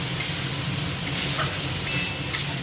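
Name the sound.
stirring potatoes and fish masala in a pan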